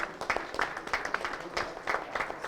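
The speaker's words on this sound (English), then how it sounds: "Big round of applause for all of you." Applause for quiz participants at a lactation management and breastfeeding conference, with steady overlapping claps at moderate volume continuing throughout, heard somewhat at a distance.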